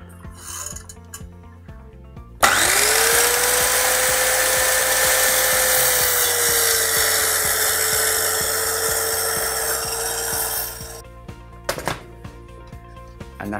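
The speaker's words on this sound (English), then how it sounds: "I'm going to use my circular saw," A circular saw bites into pallet timber clamped across two workbenches, a loud, sustained whining cut lasting about eight seconds that begins abruptly and then winds down, with lighter knocks and handling noises before and after.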